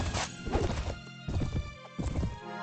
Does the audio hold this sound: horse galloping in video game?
yes